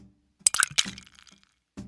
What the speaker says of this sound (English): Now I'll pour fresh milk into a glass. Throw some ice.